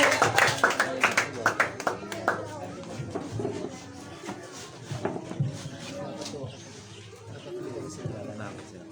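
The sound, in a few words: congregation clapping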